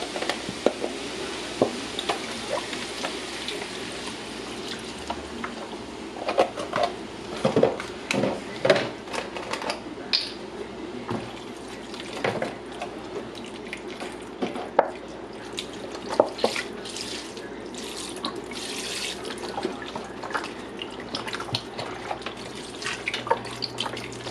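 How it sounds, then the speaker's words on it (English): Vegetable broth poured into a pan of cooking turnip greens in a home kitchen, a steady close liquid stream with splashing and small drips, no voices. "So I'm gonna add my vegetable broth."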